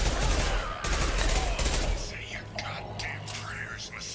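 Rapid SMG fire with incendiary ammo in Mass Effect 2 video game, a dense crackling fusillade for about two seconds, then fading into scattered softer pops and crackles with a faint voice underneath.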